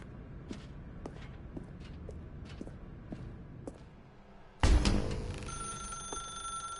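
A telephone rings in The Stanley Parable video game, sounding after a stretch of soft, scattered footsteps and clicks in a dark room; the loud bright ring bursts in suddenly and then continues steadily near and clear.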